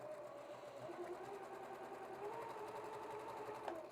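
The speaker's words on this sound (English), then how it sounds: "I am going to go ahead and chain piece again all of these just to save a little thread" Sewing machine stitching quilt block pieces one after another in a continuous chain, a steady close whirring hum running without pause throughout.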